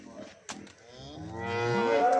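A pregnant Holstein Friesian cow lets out a long, loud moo that swells toward the end, with faint shuffling before it.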